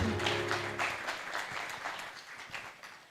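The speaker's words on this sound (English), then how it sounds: "Let's all give a loud round of applause to Professor K.V. Thomas" A short burst of applause from a crowd, many hands clapping at once, fading slightly toward the end.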